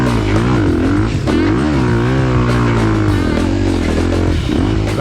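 A Ducati DesertX motorcycle engine roars close and loud as the bike climbs the steep McCaskill Hill, rising and falling in pitch while the throttle is worked, with some mechanical clatter.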